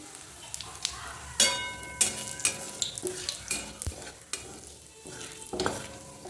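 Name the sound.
cumin seeds sizzling in hot oil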